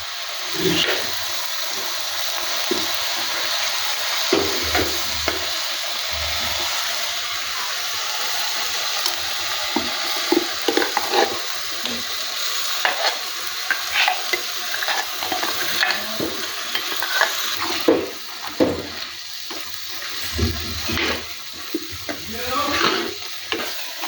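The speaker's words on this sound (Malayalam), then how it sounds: "ഇനി നമുക്ക് ഇതിൽ അരപ്പ് ആഡ് ചെയ്യാം" Steady sizzling of a thick ground paste frying in a pan for prawn theeyal, with repeated scraping and stirring strokes throughout; close and fairly loud, no voices.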